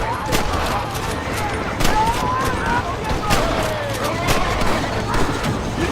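Red Dead Redemption shootout: rapid, overlapping gunshots crack again and again over a steady din, with shouting voices mixed into the firefight.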